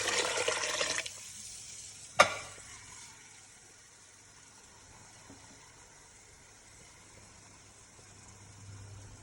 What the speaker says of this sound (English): Now I need to put water.